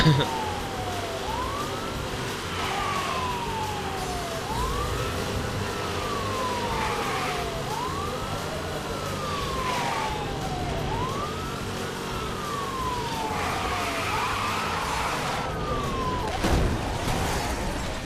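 A wailing police siren in the video game Need for Speed: Hot Pursuit rises and falls in repeated sweeps over a steady engine rumble, with some voices underneath and a sharp thump near the end.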